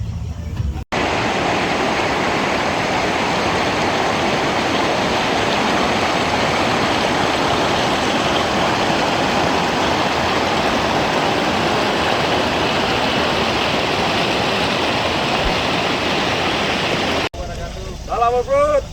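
A waterfall at a forest base camp in Aceh roars as a loud, continuous broadband rush of falling water, steady and close throughout, with brief cuts at the start and end.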